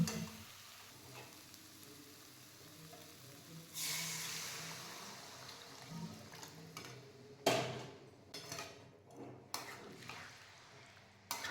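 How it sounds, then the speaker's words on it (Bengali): Hot water poured into a pan of fried potatoes for a fish curry, giving a sudden hissing sizzle that settles into a quiet bubbling, followed by a few clinks and taps of utensils. "আলুটা কষা হয়ে গেছে, এবার আমি গরম জলটা ওর মধ্যে দিয়ে দেবো।"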